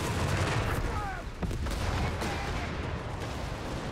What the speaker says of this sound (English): Oh, a strafing one was actually used.